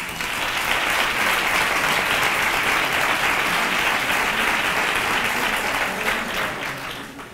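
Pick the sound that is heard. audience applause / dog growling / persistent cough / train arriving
audience applause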